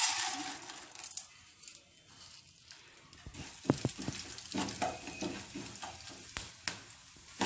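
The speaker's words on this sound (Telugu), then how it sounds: "మొదలు మనం నూనె వేగాక శనగపప్పు వేసుకుందాము" Chana dal sizzles in hot oil in a pan, a soft continuous frying hiss broken by several sharp crackles and pops, close by and fairly quiet, with no talk.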